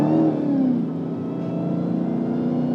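A 2019 Dodge Challenger SRT Hellcat Redeye cruises in standard drive mode, its exhaust a loud steady low burble with a brief rising rev at the start, heard from inside the car without voices.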